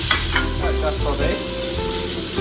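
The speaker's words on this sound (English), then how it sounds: "Just saute." Tomato and onion sautéing with shrimp in a pan, a steady loud sizzle with stirring scrapes throughout, a faint voice briefly underneath.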